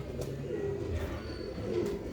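A Sialkoti black-faced pigeon cooing nearby, low soft murmuring coos repeating through a steady faint background hum.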